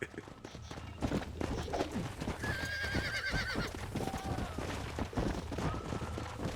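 A horse in the Red Dead Redemption video game whinnies several times over steady clip-clop hoofbeats, with game noise throughout, ending in a quieter, shorter neigh.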